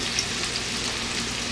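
Mushrooms and onions fry in a hot pan as stuffing for pork chops, giving a dense, continuous sizzle up close. The hiss holds steady throughout the brief moment with no talking.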